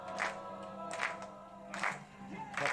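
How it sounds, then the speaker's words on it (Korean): Hands clap in rhythm while a church congregation sings worship songs after a shared meal, the claps landing in bursts about once a second over soft, fairly quiet singing voices. "박수를 치면서 찬양을 드립니다"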